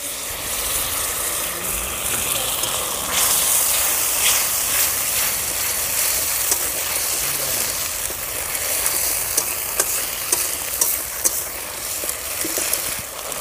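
A paste of ginger, cumin and coriander frying in oil over browned onion paste, giving a continuous sizzle and hiss with scattered small clicks and scrapes of stirring, steady and close without talk.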